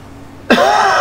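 A single loud, abrupt cough close to the microphone, breaking sharply out of near silence and trailing into a rough, sustained throat-clearing rasp.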